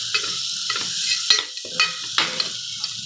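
Garam masala, salt and turmeric sauté in a hot pan while a spoon stirs them, giving a steady close sizzle broken by several scraping strokes, with no voices.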